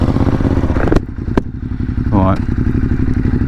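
A Ducati Hyperstrada 821 motorcycle rides along country lanes, its engine a loud, close, pulsing rumble with a sharp thump and a brief rising rev, while a rider talks over it.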